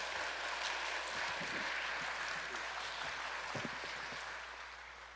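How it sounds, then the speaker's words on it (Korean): A church congregation at a healing service claps to welcome a pastor, sustained dense applause filling the room that fades slightly toward the end, with a low hum underneath. "우리 박종열 목사님 나오실 때 우리 힘찬 박수로 격려해 주시길 바랍니다"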